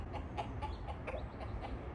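Soft, muffled rooster clucks repeat every few tenths of a second, faint and distant over a steady low outdoor rumble.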